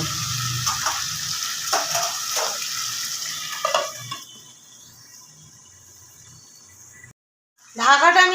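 Chicken being cooked down in a pan, sizzling and frying loudly with stirring scrapes, then quieting to a softer hiss once the lid goes on, followed by a brief gap and renewed bright sizzle.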